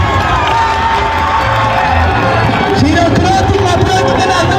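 A school crowd at a high school sports day cheers and shouts continuously, with whoops and children's voices in a loud, dense outdoor roar, while a voice talks over it.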